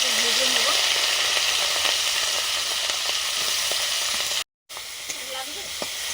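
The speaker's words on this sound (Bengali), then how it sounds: "সর্ষের তেল দিয়ে দিয়েছি, নুন হলুদ মাখানো কাঁকড়া দিয়ে আগে ভেজে নেব" Chiti crab coated with salt and turmeric fries in mustard oil, a dense, close sizzle and spatter running steadily with light stirring, briefly cutting out before resuming.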